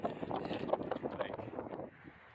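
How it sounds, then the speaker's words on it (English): Steady, blustery wind on a mountain top roars across the microphone in gusts, broadband and close, easing off slightly near the end. "It's pretty windy up here"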